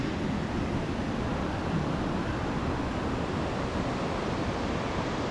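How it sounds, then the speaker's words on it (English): The North Fork Skokomish River roars beside a campsite, a loud, steady broadband rush of water that holds unchanged throughout with no other sounds. "the river is so loud"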